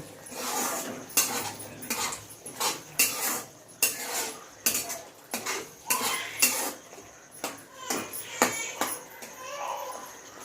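A spoon scrapes and clinks against a pan while egg masala with salt is stirred, in a steady series of sharp metallic knocks and scrapes, close and fairly loud.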